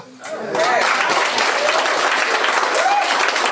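Audience at a poetry performance clapping and cheering loudly and continuously after a piece ends, dense applause with a few whoops, while a host talks over it.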